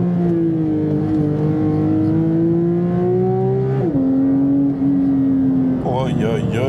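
A 2023 Porsche 911 Sport Classic engine sings close by, a loud, sustained tone climbing steadily through the revs, dropping on a gear change, then rising again.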